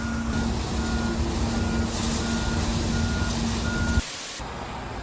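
A large truck reverses nearby with a steady, repeating backup beeper sounding over its idling engine, then the sound cuts off abruptly near the end.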